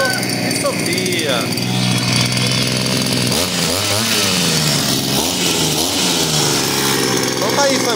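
A Palisad 52cc petrol brush cutter runs steadily and loudly throughout, its engine droning with pitch shifts as it revs, while voices talk over it.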